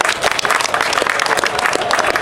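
Dense crowd applause and cheering at a Congolese political rally for the head of state, steady and loud across the whole stretch, with a little voice mixed in.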